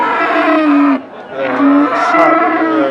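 A medium-sized Sahiwal bull lows repeatedly at a rural cattle market in Domar, Nilphamari, with long loud moos broken by a short pause, close and clear over faint market background.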